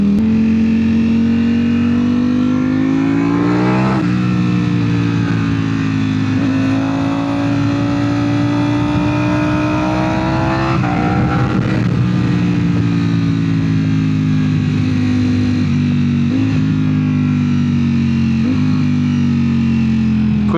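A Ducati Panigale V4 motorcycle drones loudly and steadily while being ridden, its engine pitch rising and falling through revs and shifts, with heavy wind rush throughout.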